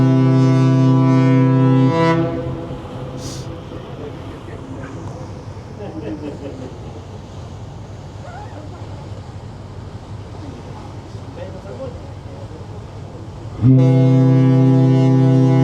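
Deep, loud blasts of a boat horn, one at the start and another near the end, with a quieter stretch of wind and water noise between.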